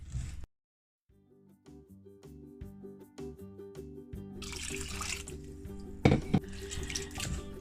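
Sea moss being rinsed by hand under a running tap in a sink, water splashing and gurgling steadily over the weed, with a brief burst of louder splashing partway through and no talk.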